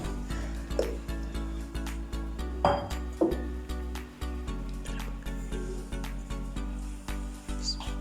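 Dishes clinking while haleem is served: glass and metal clinks and taps over a steady low hum, with a few brighter scraping knocks in the middle.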